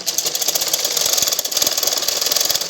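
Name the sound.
sewing machine stitching a blouse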